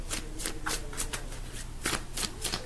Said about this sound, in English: I'm going to shuffle these cards and see if they come back out